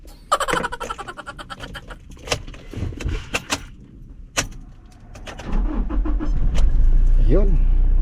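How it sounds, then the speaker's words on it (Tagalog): A car started with the key: keys jangle and clatter up close, a pause, then the engine cranks and catches into a steady loud idle, with a person talking over it. "i-start na natin yung sasakyan guys at tayo ay pauwi na ng bahay"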